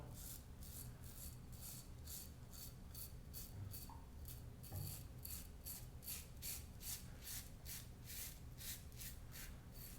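A Merkur 23 INOX stainless steel safety razor fitted with a new Feather blade rasps through stubble down a cheek in a steady series of short, crisp scraping strokes, close and clear, with no talking.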